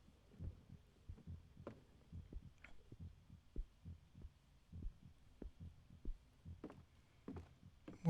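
In the Song of Horror horror video game, a low, muffled heartbeat pulses in an irregular, thumping rhythm, mostly quiet and close, with a soft hum underneath.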